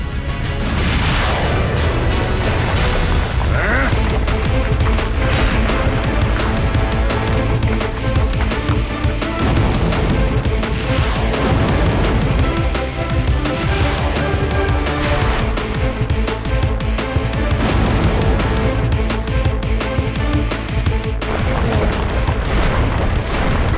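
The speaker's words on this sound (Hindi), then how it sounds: "इन दो छोटे लट्टुओं को मिसाइल से उड़ाता हूँ।" Cartoon missiles blasting spinning tops make continuous loud booms and crashing explosions layered over dense, busy soundtrack noise, sustained and chaotic throughout.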